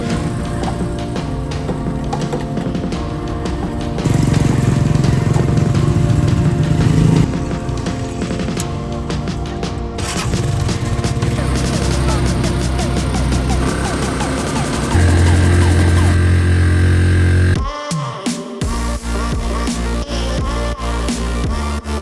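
A loud, droning motorized tricycle engine runs steadily throughout, rising and falling in pitch as it revs, with rattling and road noise close up, on a ride to Nacpan Beach, El Nido.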